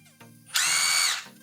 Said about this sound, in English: that is the way that you drill a screw in, or drive a screw in, and it's going clockwise